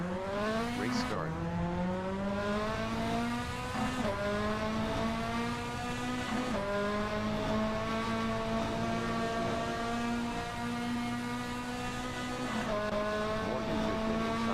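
Several race cars in a sim racing game launch from the start at Silverstone National, their engine notes climbing steadily together with sharp drops at each upshift, a loud continuous blended roar throughout.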